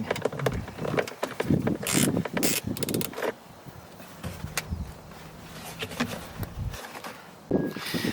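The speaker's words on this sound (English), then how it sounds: "having got all the screws out" Screws being removed from a Dacia Duster door mirror with a hand tool, giving close, quick ratcheting clicks and small mechanical taps in irregular bursts that thin out into quieter fiddling.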